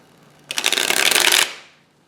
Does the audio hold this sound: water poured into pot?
no